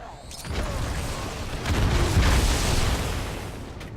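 CGI explosions from a Master Chief render test, with a few muffled booms that swell and rumble, moderately loud with a low, rolling tail.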